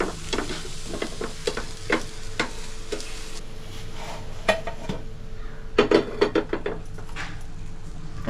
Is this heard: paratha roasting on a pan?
yes